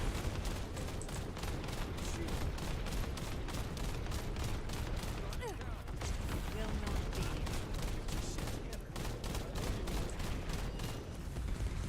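In the shooter video game The First Descendant, weapons fire in rapid, dense bursts, a steady rattle of repeated shots with occasional booms, loud throughout and partly under a player's talk.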